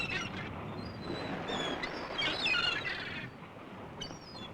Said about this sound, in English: And then the gulls make good drinking companions.